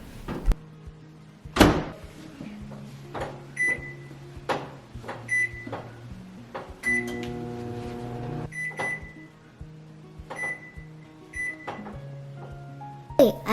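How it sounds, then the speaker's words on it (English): A microwave oven heats chocolate chips for homemade peanut butter cups, with repeated sharp beeps, door clunks and thumps over a low running hum, all close and clear. "Next, microwave it in increments, about 30 to 40 seconds at a time."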